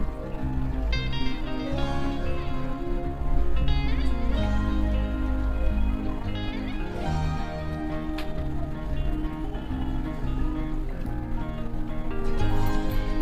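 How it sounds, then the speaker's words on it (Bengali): Bottle gourd bubbles in a pan with a busy, rain-like patter of popping and simmering, while a utensil stirs through it with occasional knocks and scrapes. The sound is close and continuous, with no voices. "তো ঢাকনা খোলার পর এরকমভাবে লাউটা কিন্তু ফুটে ফুটে এসছিল আমি ভালোভাবে নাড়াচাড়া করে নেব"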